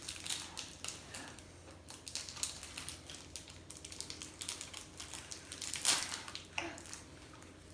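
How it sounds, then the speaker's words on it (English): Mars bars being cut up in a home kitchen by two young chefs, a close, uneven series of crisp clicks and crunches with one louder cut near the end and no talking. "Now we're going to cut up the Mars bars."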